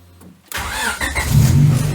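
A car engine cranks and catches after a brief quiet, then settles into a steady, fairly loud idle with a low throb, just after a timing adjustment with the jumper pulled.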